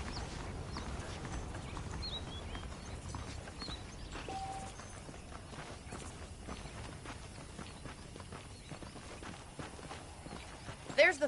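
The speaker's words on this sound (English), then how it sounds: "The horses are saddled up over here." Saddled horses clip-clopping in a video game town, a faint, steady patter of hooves under continuous talk.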